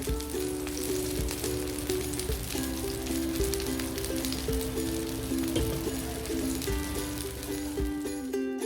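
Paniyaram made from idli batter sizzling and crackling as it fries in the pan, a close, steady bubbling sizzle with a constant tonal hum beneath and brief clatter near the end.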